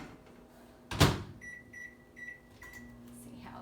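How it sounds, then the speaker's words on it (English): A microwave oven is closed with a sharp thud, then a series of short electronic beeps follows as it starts, and its low steady hum runs underneath, all fairly quiet and close. "And this time I'm just gonna microwave it about 30 seconds."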